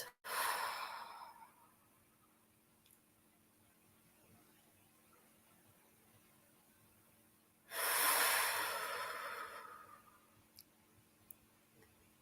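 Two slow, deep breaths, each a long airy rush that fades out gradually, are taken during a guided breathing exercise, with near silence in between.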